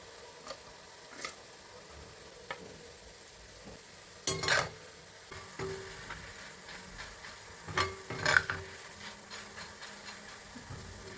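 Boondi batter fries in hot oil for a bakery-style mixture, giving a faint crisp sizzle. Soft crackles and light spoon clinks come and go in small bursts.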